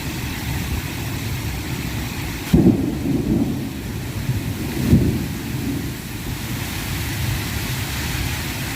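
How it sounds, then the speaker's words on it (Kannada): Strong wind roaring steadily with rain noise, broken by two sharp gusty thumps partway through; loud and continuous, no talking. "ಎಷ್ಟು ಗಾಳಿ ಐತಂತ"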